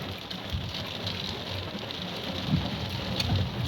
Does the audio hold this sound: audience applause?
no